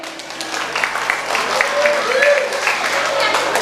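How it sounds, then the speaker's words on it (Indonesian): Audience clapping for a contestant in yellow at a live stage competition in Bali, with moderate, sustained applause mixed with crowd noise and voices under a steady hum. "Mana tepuk tangan buat baju kuning?"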